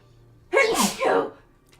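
A single close sneeze bursts out after a quiet moment, sharp and breathy with a two-part shape, during a casual indoor session of building and painting Warhammer 40k miniature models.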